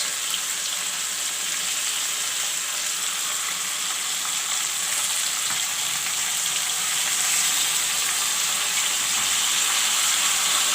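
Masala paste frying in a pan together with drumstick and potato pieces, a steady, loud, bright sizzle that holds evenly throughout with no talk over it.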